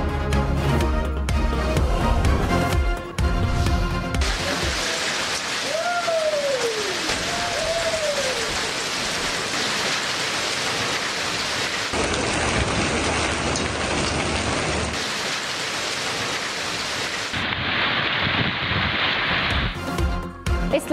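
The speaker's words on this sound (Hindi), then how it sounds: "इस्लामाबाद में तेज बारिश के साथ शदीद यालाबारी, गाड़ियों को नुकसान, दरख्तों की टहनियां टूट गईं।" Heavy rain mixed with hail in Islamabad forms a dense, continuous roar throughout, with other sounds and abrupt shifts in tone, but no clear speech.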